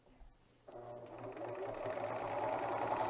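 Serger sewing machine roll-hemming fabric, running up to a steady, fast whirring hum after a brief quiet start and staying loud and close, with a voice talking faintly beneath it.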